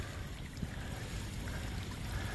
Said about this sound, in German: das Wasserspiel mit den übereinander gestapelten Steinen.